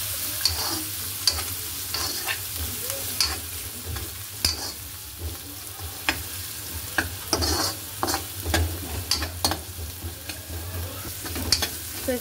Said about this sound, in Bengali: তো এখানে ক্যাপসিকামগুলোতে দিয়ে দিয়েছি ভাজা করার জন্য।